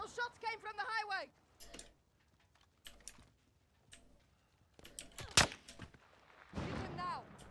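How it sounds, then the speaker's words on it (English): Gunfire in a Call of Duty: Modern Warfare campaign battle, a few sharp isolated shots cracking out between bursts of radio chatter and shouted voices, with one loud close shot standing out. "Those shots came from the highway!"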